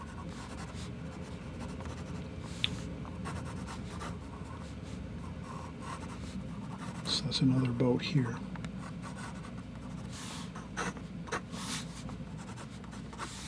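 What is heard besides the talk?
pencil sketching on paper for a watercolor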